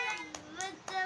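A child claps hands three times in a steady rhythm while a voice sings a Hindi alphabet rhyme, the claps sharp and close over the melody.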